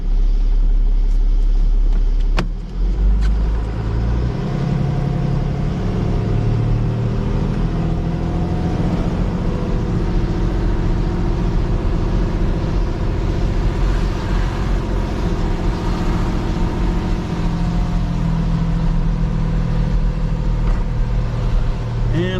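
A car engine rumbles steadily and close by while the car backs out in complete darkness on a ski mountain, a continuous low drone with slight swells in revs and no talking.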